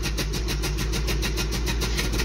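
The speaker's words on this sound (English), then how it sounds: "got to give it some gas to start it up" Toyota 22R engine in a truck with an exhaust leak, starting with some throttle and running rough; a steady, loud, close chugging with a fast, even pulsing rhythm.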